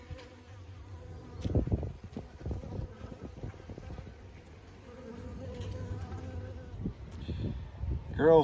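Honeybees buzzing around a Layens hive on a windy March day, a steady close drone of many insects mixed with low gusting wind rumble that swells and fades throughout.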